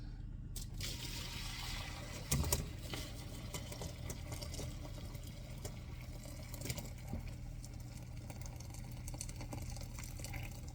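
Sugarcane liquid trickles and drips steadily as it is strained, with a low hum underneath and a few clinks near the start.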